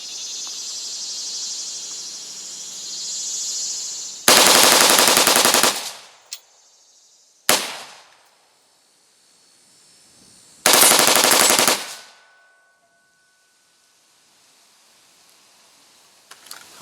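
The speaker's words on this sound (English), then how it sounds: "how inconsistent of a shot one of these bump fires makes a standard AR-15" Bump-fired AR-15 rifle shooting at a steel target outdoors: two long, loud, ragged bursts of rapid fire and a single shot between them, with insects chirping faintly in the quiet gaps.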